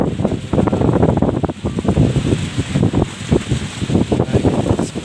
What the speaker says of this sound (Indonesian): Angin cukup kencang ini kan.